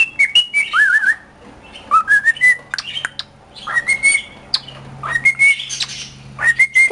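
A male cockatiel sings at its reflection in a mirror, sending out repeated rising and falling whistled phrases and short chirps in bursts, close and clear against a quiet room.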